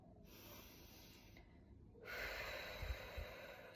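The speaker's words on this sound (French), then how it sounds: "Je souffle." A soft, close breath is released through the nose and mouth as a slow exhale, followed by a stronger breathy puff with a faint snort. Quiet overall, no speech.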